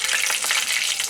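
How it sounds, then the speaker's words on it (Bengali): Dried red chillies sizzling steadily in hot oil in a pan, a close, continuous crackling fry throughout the short moment with no talk. "একটু ভেজে নেব।"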